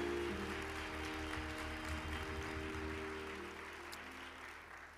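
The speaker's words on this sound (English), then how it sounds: "Now give yourselves a round of applause for coming out and supporting." Applause from a concert audience at a church spirituals and hymns concert, a steady wash of clapping that gradually fades toward the end.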